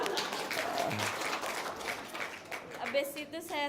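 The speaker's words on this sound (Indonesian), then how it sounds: "Tepuk tangan dong." An audience at an Islamic religious gathering applauds in a steady, dense wash of clapping that lasts the whole clip, with a voice speaking over it near the end.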